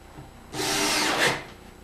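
Power drill briefly driving a screw into a wooden play kitchen, one short whirring burst of about a second, fairly close, with no talking.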